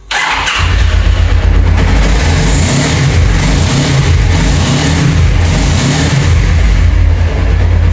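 A Suzuki Inazuma GW250F motorcycle with a throttle fault that won't take gas fires up abruptly, then its engine runs loud and close with a steady, rough idle and slight rev swells throughout.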